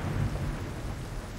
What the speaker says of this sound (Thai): ตั้งแต่มาที่นี่ฝนตกทุกวันเลยอ่ะ